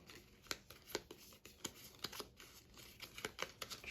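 Quiet, rapid riffling clicks of playing cards being shuffled, close up, in irregular quick bursts with no talking.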